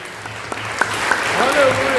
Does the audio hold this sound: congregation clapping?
yes